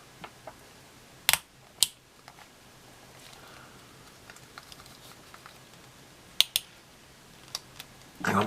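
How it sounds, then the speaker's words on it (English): The plastic ratchet joints of a knockoff Hellboy action figure are moved, giving a few sharp, close clicks at irregular intervals with faint handling noise between them. "It does have clicky joints."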